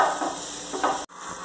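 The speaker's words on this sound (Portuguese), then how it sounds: "Eu já coloquei aqui a cebola, já estou murchando aqui um pouco de cebola picadinha" Chopped onion sautés in a heated clay pot as a steady, close sizzle with a brief stirring scrape and a momentary break near the end.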